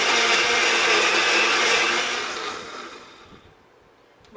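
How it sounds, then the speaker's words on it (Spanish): A kitchen blender whirring steadily as it purees blueberry chia pudding, a loud dense roar that holds for about two seconds before winding down and fading out. "Y lo vamos a licuar."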